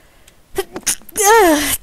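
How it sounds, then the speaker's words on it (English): A single loud, close sneeze from a person, a sharp breathy burst that rises into a strained voiced cry, preceded by a couple of quick intakes of breath. "I sneezed"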